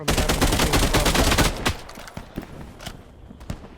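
Gunfire from a battle royale video game: a dense, loud burst of rapid shots for the first couple of seconds, then scattered single sniper-like cracks that stand out sharply against a quieter background.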